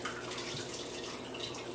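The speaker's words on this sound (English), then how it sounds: "I pour the juice around and around, shake it through" Carrot orange turmeric juice poured through a large strainer, a soft continuous trickle and splash of liquid, close and fairly quiet.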